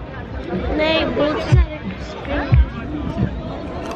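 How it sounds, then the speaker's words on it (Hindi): Crowd chatter fills a busy outdoor Punjabi Mela in Amsterdam, a steady babble of many voices with a few louder nearby speakers breaking through. "काफी भीड़ है।"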